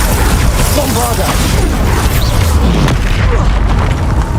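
A Bombarda blasting spell explodes in the video game Hogwarts Legacy with loud, dense booming rumbles layered with crackling magical effects, heavy and continuous from start to end, and a voice partly mixed in.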